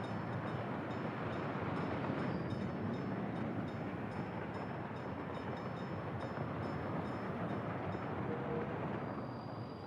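Train rumbling steadily in the Workers & Resources city-building game, a continuous broad rolling noise with no break for ten seconds.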